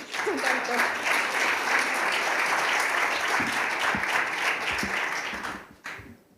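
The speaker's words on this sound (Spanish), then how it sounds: "Un aplauso, por favor, para Lucía." Audience applause fills a conference hall at the opening of a second-edition innovation event, steady dense clapping throughout that fades out near the end.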